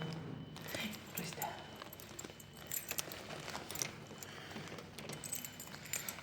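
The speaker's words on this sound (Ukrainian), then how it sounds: "А тепер де отут мені треба відкривати вже своїми дверима ключами" Keys jangle and scrape in a lock as a hotel room door is unlocked, a faint, irregular metallic clinking heard close by under low background noise, with a voice speaking at moments.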